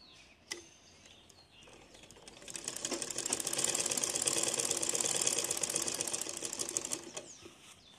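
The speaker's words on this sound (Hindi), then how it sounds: "अब हम दोनों शोल्डर सिलेंगे।" A sewing machine stitching the shoulders of a designer blouse runs up after a single click, holds a steady, fast whirring drone for about four seconds, then slows and stops, with no voices.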